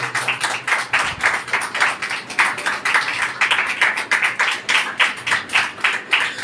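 A church women's seminar audience clapping in unison, a loud, close rhythmic beat of many hands keeping a steady pace throughout.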